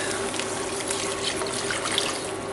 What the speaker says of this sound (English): I'm going to pour in the stock